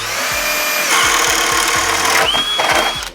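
Flex stacked lithium cordless drill with a 5 amp hour battery boring through wood with a 1 inch speed demon spade bit: a loud, close, high motor whine with rhythmic chattering knocks as the bit chews in, pitch shifting near the end.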